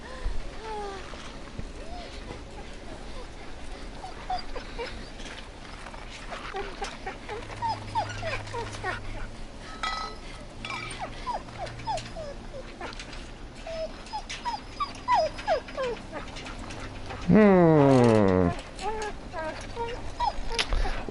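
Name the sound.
wild dogs whimpering and barking, from video game The Walking Dead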